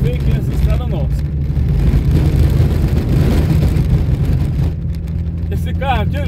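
A car jolts and rattles along a rough, potholed dirt road in rural Urucuia, Minas Gerais, with steady low engine rumble and continuous body shaking, while someone talks over the noise.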